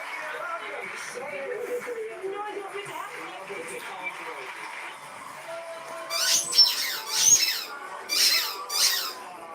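A lively puppy gives a run of high, piercing squeaks, sharp bursts clustering toward the end, close by, while someone talks over and between them.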